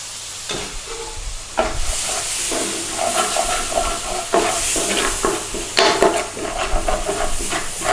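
Base gravy for a British Indian restaurant North Indian Special curry sizzles and hisses loudly in a frying pan as it is stirred, with scraping stir strokes over a steady steamy fry throughout.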